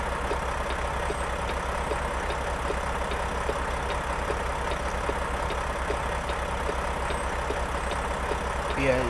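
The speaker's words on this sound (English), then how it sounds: "Good sounds of this truck." A Mack truck engine idles in the video game Euro Truck Simulator 2 with a steady low rumble, constant and close, with faint ticks over it and no voices.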